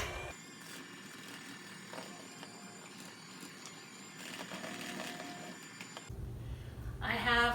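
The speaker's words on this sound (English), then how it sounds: "then I'll just blend it on low for a minute" A stand mixer blends pound cake batter on low, a steady motor whir with mechanical hum that holds level for several seconds and then shifts pitch near the end, close and moderately loud.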